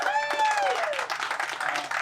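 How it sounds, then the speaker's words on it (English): Crowd giving a round of applause for Casey and Katie Damron, a short burst of clapping with cheering and a whistle-like voice over it. "Big round of applause for both Casey and Katie Damron."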